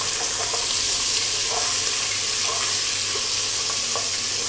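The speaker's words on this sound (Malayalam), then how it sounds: "ഉള്ളി ഒന്ന് വഴറ്റുക" Onions sauté in a pan for mutton roast, a steady close sizzling hiss with faint scraping stirs now and then, no talking.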